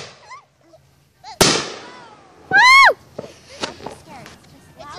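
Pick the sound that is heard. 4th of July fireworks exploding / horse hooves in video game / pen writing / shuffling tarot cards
4th of July fireworks exploding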